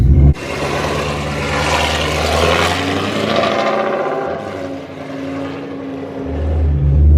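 A rebuilt 1200whp 2020 Shelby GT500 drives off with a loud, close engine roar that holds steady and swells, then eases to a lower rumble near the end.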